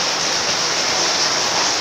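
Heavy rain pours down in a dense, steady roar of hiss, loud and continuous throughout with no voices.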